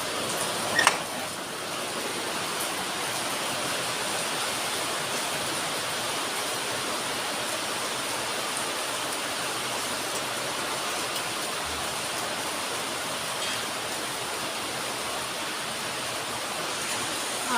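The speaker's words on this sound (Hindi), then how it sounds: "ओ इतनी तेज बारिश हुई एकदम से।" Heavy monsoon rain pours steadily over the hills of Mussoorie, a dense, constant hiss of downpour that stays loud and even throughout with no talking.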